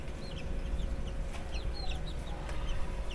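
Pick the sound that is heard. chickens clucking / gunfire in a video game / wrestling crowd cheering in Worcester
chickens clucking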